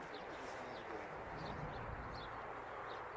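White-crested pigeons coo softly at a distance. Short, faint calls repeat over a constant outdoor hiss.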